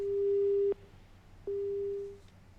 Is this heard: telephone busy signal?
yes